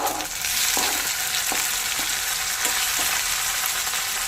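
Chopped onions and tomatoes frying in a pan for a chenga pappu curry, a steady dense sizzle broken by a few soft stirring knocks, no talking.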